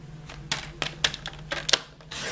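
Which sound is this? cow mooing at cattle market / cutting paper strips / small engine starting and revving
cutting paper strips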